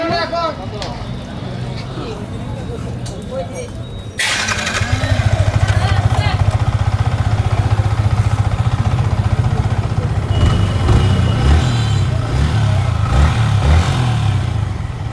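A repaired motorcycle engine runs after a fault that made it bang loudly and stall, starting partway through and then idling and revving loudly and steadily, with someone talking over it.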